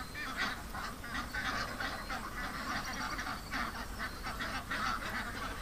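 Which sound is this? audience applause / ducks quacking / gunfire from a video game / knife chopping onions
ducks quacking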